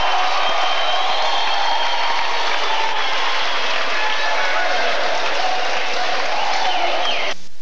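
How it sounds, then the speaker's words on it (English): A volleyball arena crowd erupts into loud, continuous cheering and applause, a dense roar that holds steady throughout with no breaks. "And the crowd going wild."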